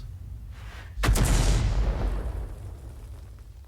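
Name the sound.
artillery firing in a tank video game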